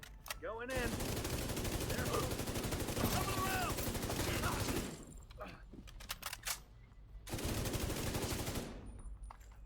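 Light machine gun fire in The Division 2, long sustained automatic bursts with a short pause midway, loud and close, mixed with game effects and faint voice chatter.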